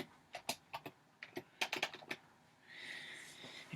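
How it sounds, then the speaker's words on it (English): Quick keystrokes on a computer keyboard while entering text in editing software, a close run of sharp clicks followed by a steady hiss. "So in this situation I'm going to type in more episodes"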